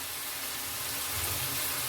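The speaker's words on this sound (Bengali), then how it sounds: "এবার দিয়ে দেবো ভিজিয়ে রাখা গোবিন্দভোগ চাল।" Soaked Gobindobhog rice goes into a hot pan of coriander powder and Kashmiri red chilli powder, raising a steady, dense sizzling hiss that holds evenly throughout, with no voices.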